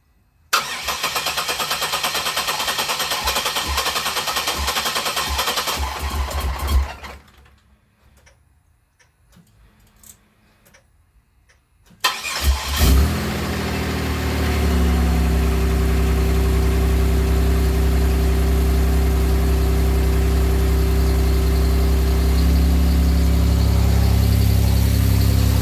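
A 2007 Pontiac Grand Prix with rebuilt heads and stainless valves cranks, falls quiet, then catches and settles into a steady, loud idle with a faint ticking.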